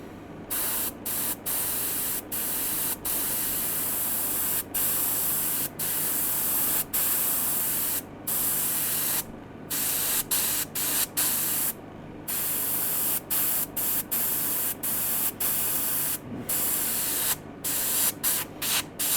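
An airbrush sprays paint onto a handmade fishing lure at close range, with a steady broadband hiss in repeated bursts that stop briefly between passes while the gill line is painted.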